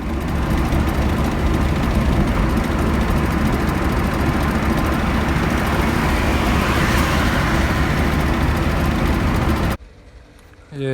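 Car rolling along a road with a vibration from a bad passenger-side front control arm, a loud steady rumble and road roar that cuts off abruptly near the end.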